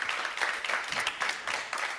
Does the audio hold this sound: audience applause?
yes